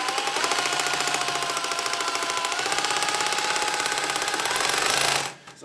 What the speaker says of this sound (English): Now these SDS bits, these impact bits, are drills. Make short work of this.